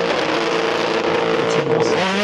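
A rally car races on the dirt stage of the Rallye des Grands Fonds in Guadeloupe during its second pass. The engine drones loudly and steadily up close, revving and shifting pitch as the car slides through the stage.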